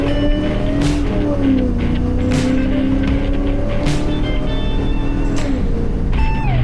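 An old pickup truck with over a million miles drives along, its engine droning steadily from inside the cab with pitch rising and dropping through gear changes, plus occasional brief clunks and rattles.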